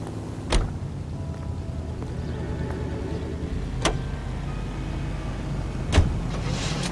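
A car drives in the video game L.A. Noire, with a steady low engine drone and rumble. A few sharp knocks or clunks stand out above it at intervals.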